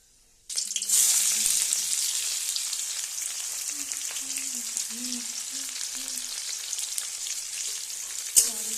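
Cumin seeds hit hot oil in a wok with a sudden loud sizzle. The steady, close crackling frying holds throughout, with faint low sounds from the cook underneath.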